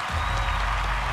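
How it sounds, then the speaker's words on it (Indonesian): A studio audience applauds a performer on an Indonesian television talent contest, brief dense clapping from many hands, loud and steady throughout. "Kita berikan tepuk tangan sekali lagi untuk Master Limbat."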